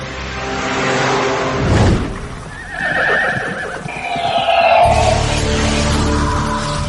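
A horse whinnies loudly up close, its cry rising and wavering for several seconds, followed by a second shorter neigh and snorting.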